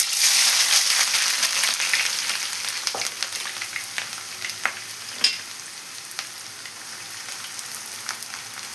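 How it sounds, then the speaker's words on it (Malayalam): Sliced onions frying in hot oil for shredded chicken, a dense, continuous crackling sizzle up close, with occasional louder pops and faint stirring scrapes. "നമുക്ക് ആദ്യമായിട്ട് ഇതിലോട്ട് സവാള ഒന്ന് ഫ്രൈ ചെയ്തെടുക്കണം"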